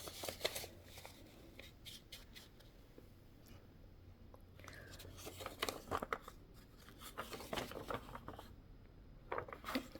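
Scissors snip through letter-sized printed paper for a mini zine, close and crisp, in irregular bursts of short cuts with paper rustling and handling between them.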